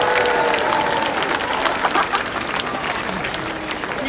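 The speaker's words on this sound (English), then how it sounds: "Let's give the kids and the performers a round of applause." Dense, steady applause from an outdoor crowd at a Chinese lantern festival, rewarding children and performers after a cultural show, with scattered cheers mixed into the continuous clapping.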